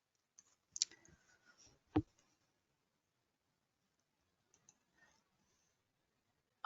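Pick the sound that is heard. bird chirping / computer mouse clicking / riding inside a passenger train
computer mouse clicking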